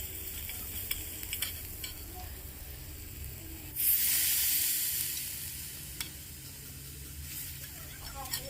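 Bottle gourd spiced with turmeric and chili powder fries quietly in a pan until a splash of water hits it, setting off a loud, rushing hiss that gradually fades back to a low simmering sizzle.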